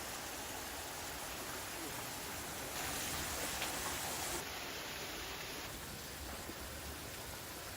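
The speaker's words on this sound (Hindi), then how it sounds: "हवा चल रहा है और बारिश भी है।" Steady wind and rain hiss evenly and fairly loudly outdoors during a heavy storm, with no clear speech over the continuous wash.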